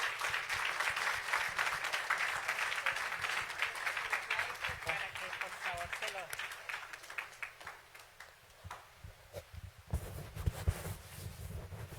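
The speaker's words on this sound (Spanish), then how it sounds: "Recibamos con un gran aplauso al Señor" A church congregation applauds in a welcoming round of clapping that starts strong and thins out over several seconds, with a voice speaking over and after it.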